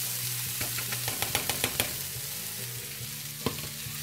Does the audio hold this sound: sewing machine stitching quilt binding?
no